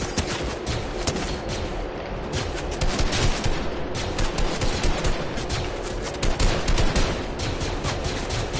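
Sustained war-game gunfire, a dense, continuous barrage of overlapping automatic bursts and single shots rattling steadily throughout, loud and busy with no voices.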